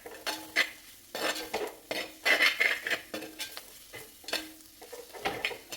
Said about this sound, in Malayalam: ഇതൊരു 1 മിനിറ്റ് നേരം അതിൻ്റെ പച്ചമണം മാറുന്നോടെ വരെ നമുക്ക് വഴറ്റി കൊടുക്കാം